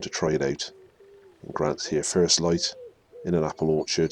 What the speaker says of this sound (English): You can hear the wood pigeons calling in the background as cock pheasants come in.